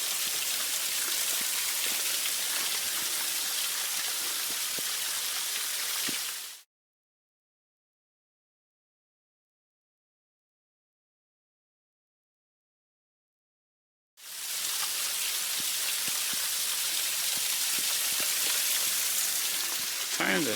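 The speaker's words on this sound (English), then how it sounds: "Along with a lovely waterfall." A waterfall beside a railway line, a continuous broad rushing roar of falling water that cuts out completely for several seconds in the middle before returning just as loud and steady.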